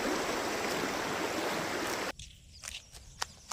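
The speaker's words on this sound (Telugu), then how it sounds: "అక్కడ వాగుంటుంది" A stream rushes steadily beside a village cotton field for about two seconds, a close and continuous watery hiss, before it cuts away to a much quieter stretch with faint scattered sounds.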